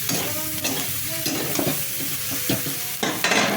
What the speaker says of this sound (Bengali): তারপরে আলু কাটা ছিল সেগুলো ফুলকপির উপরে তুলে দিলাম, দিয়ে একটু হালকা করে ব্রাউন করে ভেজে নিলাম।